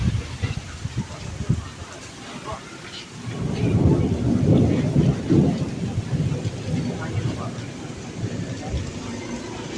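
A thunderstorm with heavy rain and strong wind: steady rain hiss with a deep rolling thunder rumble swelling midway and lingering, loud and close.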